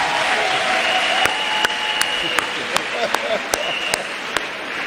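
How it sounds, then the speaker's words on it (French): A church congregation claps along at a sermon on Samson, sharp rhythmic handclaps on a steady beat over a busy murmur of voices and a faint background tone. "Acclamons pour Jésus."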